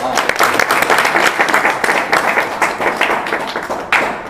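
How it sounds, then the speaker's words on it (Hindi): Loud applause from a gathered crowd at a community gathering in Nanakpur, brisk uneven clapping throughout, with a few murmured voices mixed in. "ताली बजा के स्वागत करें सब लोग"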